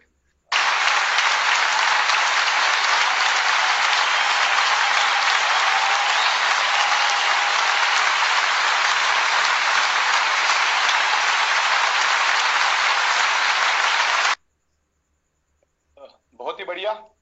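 Loud, dense applause from an audience welcoming a guest at a Zoom live program, sustained evenly for about fourteen seconds before cutting off abruptly, then a brief voice is heard.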